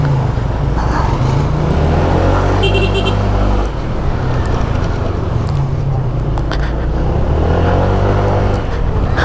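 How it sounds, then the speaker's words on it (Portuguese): A customized motorcycle engine revving close by, loud and rough with rising and falling throttle bursts, a brief dip midway before roaring on again; a voice talks over it at times. "todo mundo fica de olho nessa moto aqui, que o meu tio personalizou ela"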